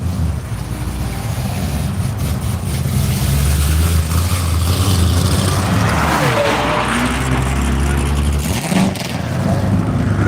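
A Porsche race car with a Shadow Buddies livery takes turn one at NCM Motorsports Park during a One Lap of America session, its engine a loud continuous drone with shifting pitch as the car slides a little through the corner.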